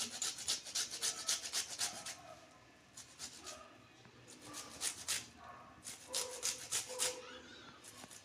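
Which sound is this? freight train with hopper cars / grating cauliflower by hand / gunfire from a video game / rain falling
grating cauliflower by hand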